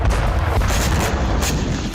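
Artillery fire rumbles in war footage from Ukraine, a dense, loud, continuous roar of booms and blasts with no clear gaps.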